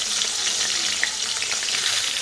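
Eggplant frying in hot oil, a dense continuous sizzle heard up close and alone with no talking.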